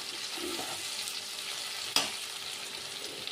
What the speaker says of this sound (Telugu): 2 వెల్లుల్లి రెబ్బలు దంచి పెట్టేసాం కదా, అవి వేసేద్దామండి